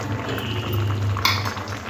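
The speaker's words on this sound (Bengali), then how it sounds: "দু থেকে 3 মিনিট ভালো করে ডাঁটাগুলো ভাপিয়ে নিতে হবে।" Cauliflower stalks steam and simmer in a covered pot, giving a steady low bubbling hiss with a brief clatter of a lid or utensil near the end, close and fairly loud with no talk.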